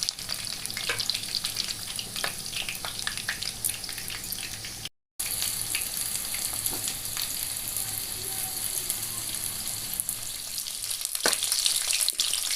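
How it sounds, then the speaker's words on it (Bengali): Chicken pakoda deep frying in hot oil on a stove, a steady loud sizzle and crackle running throughout with occasional sharper pops and a brief break in the middle. "চিকেন পকোড়াগুলো আমাদের এখন পুরো হয়ে গেছে ভাজা।"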